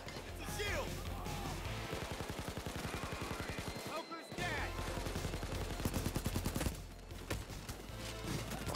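Dense bursts of automatic gunfire rattle in the Payday 2 VR shooter, rapid rhythmic volleys with short pauses and crashes, fairly faint overall, with a player's voice breaking in now and then.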